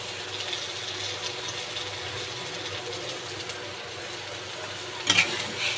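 Tomato dropped onto fried soybean chunks in a hot pan brings a steady, close hiss and sizzle with faint scraping, ending in a short clattering knock near the end.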